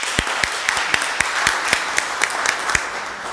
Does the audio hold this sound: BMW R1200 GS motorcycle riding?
no